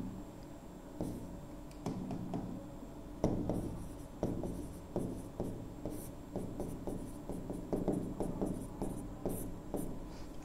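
Chalk scratches and taps across a board as formulas are written, a quick irregular run of short strokes and clicks, close and fairly clear over a quiet room.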